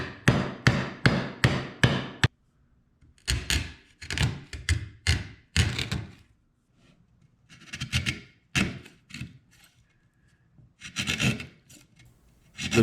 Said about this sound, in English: Then I just clean up all the edges with the chisel.